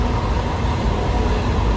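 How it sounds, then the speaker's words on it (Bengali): A steady, loud rumble and rattle of the Maa Tara Express moving fast on the Sealdah to Rampurhat route, heard from inside, continuous with no pauses or voices. "এতটা স্পিডে কিন্তু ট্রেনটা যাচ্ছে দেখো।"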